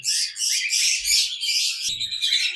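Pet foreign birds kept for sale, a ringneck-type running pair, give a continuous stream of loud, high chirps and squawks close by, with no talk.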